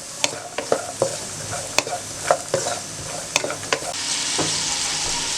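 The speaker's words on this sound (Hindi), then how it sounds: "हमने 1 खाने का चम्मच कुकिंग ऑयल में तीनों सब्जियां फ्राई कर लेनी हैं।" Carrots and other vegetables fry in a tablespoon of cooking oil, a steady close sizzle broken by sharp scraping clicks as a spoon stirs the pan.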